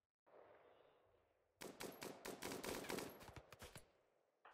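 Rapid automatic gunfire from the video game Rimworld rattles out in a dense, loud burst of shots after a quieter rushing lead-in.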